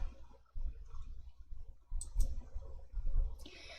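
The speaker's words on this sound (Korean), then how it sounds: "A18번 셀을 클릭" Computer mouse clicks on a spreadsheet cell during an Excel lesson, a few short, faint ticks at close range with a quiet background.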